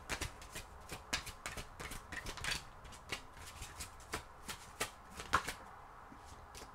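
Oracle cards shuffled by hand in a steady run of crisp riffles and soft slaps, close and fairly quiet, with no talking.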